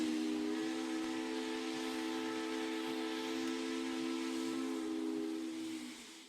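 A steam locomotive whistle from a video game, one long sustained blast with steady harmonic tones over a breathy hiss, loud and close, trailing off at the end; no talking.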